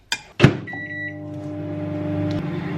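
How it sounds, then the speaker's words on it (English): Household microwave oven running while reheating chocolate: a clunk and door or start thump, then a steady close hum with a faint electronic tone, loud and alone, no talk. "I think I'm going to do it again for a third time though, because my microwave has like a really weird setting"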